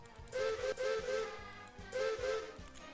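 In a Roblox train game, the Douglas engine sounds its steam whistle in two paired toots separated by a short pause, bright and fairly loud over a rhythmic clanking of the engine underneath.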